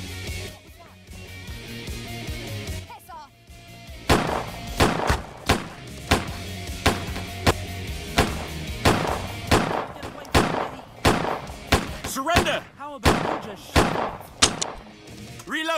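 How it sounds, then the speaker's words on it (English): Gunfire in Autobahn Police Simulator 3 sounds as a series of sharp, loud shots, first scattered and then in quicker irregular runs, with someone talking between them. "I'm just gonna shoot him."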